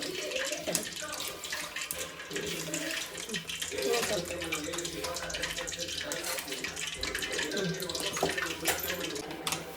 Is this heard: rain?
no